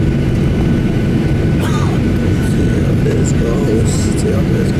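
An airliner begins its takeoff roll from Portland airport, heard from inside the cabin as a loud, steady low engine roar with rising whine, while a passenger talks over it.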